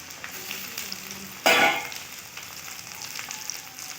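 Water splashes into red chilli, turmeric, cumin and coriander powders for a mutton curry, then a spoon stirs the mixture into a paste with a soft, wet, close scraping.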